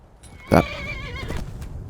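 A horse in The Elder Scrolls V: Skyrim lets out a loud, close whinny with a sharp onset, followed by a wavering neigh and soft clip-clop hoofbeats, with no talk over it.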